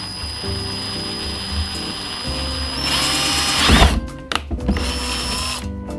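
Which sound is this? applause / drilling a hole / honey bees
drilling a hole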